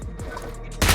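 Gunfire in BGMI (PUBG Mobile) Mecha Fusion mode rattles out as a loud, close burst of rapid shots, then a heavier blast swells at the end.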